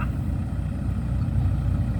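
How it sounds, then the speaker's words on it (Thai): A tractor's diesel engine rumbles low and steady nearby as it tows a stuck vehicle, a continuous throbbing drone with no voices. "รถไถมาลาก"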